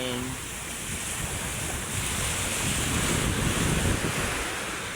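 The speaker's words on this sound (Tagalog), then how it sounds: "Kasi magalaw yung ating dagat." Rough sea waves wash and roar continuously at Manila Bay during a typhoon, with strong wind buffeting the microphone throughout and no voices.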